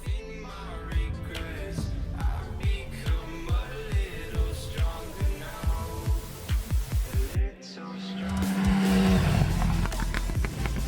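A Triumph Rocket 3 R motorcycle on a ride, with a loud engine throbbing in regular pulses that gives way to a rising, sustained roar as it accelerates, close to the microphone and with no voices.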